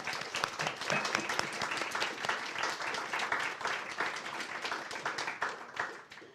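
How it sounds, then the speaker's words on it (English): An award ceremony audience gives a writer shortlisted for a children's book prize a round of applause, a full, crisp clapping that holds steady for several seconds and then tapers off at the end. "A round of applause for Elva"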